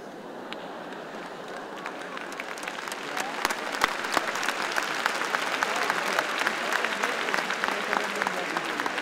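A seminar audience applauds, the clapping starting light and swelling into a dense, steady ovation of many hands that fills the room and holds strong to the end.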